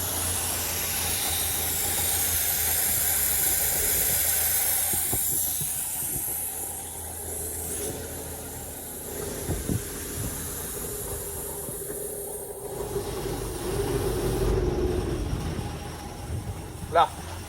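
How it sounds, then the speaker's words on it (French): An engine running on choke gives a steady, breathy rush of carburetor intake air with a low rumble beneath, while someone talks over it and a few clicks and handling knocks break through. "Là le bruit d'air qu'on entend c'est le bruit du carbu."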